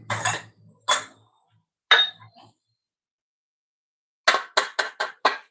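A pestle pounding shallots and chillies in a mortar, a few sharp separate knocks, then a pause, then a quick run of five close thuds; a voice is faintly heard near the start.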